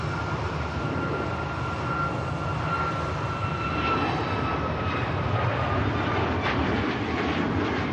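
A Ryanair airliner departs Manchester Airport for Tenerife, its engines a continuous broad roar with a faint steady whine on top, swelling slightly toward the end.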